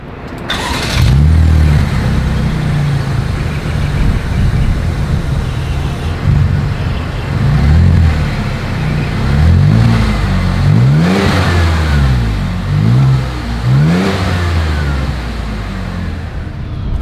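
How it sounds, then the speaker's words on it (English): A 2023 Chevrolet Traverse SUV engine revs repeatedly through its exhaust, rising and falling in several loud, throaty bursts with a steady idle rumble between them. "As always, here is that exhaust clip."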